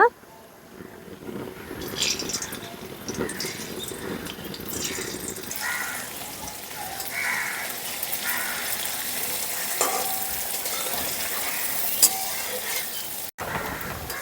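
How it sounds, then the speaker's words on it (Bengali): Paneer cubes frying in oil in a kadai give a steady, broad sizzle that swells and settles over about fourteen seconds, close by, with a few stirring knocks. "তো প্রথমেই পনিরটা ভেজে নেব।"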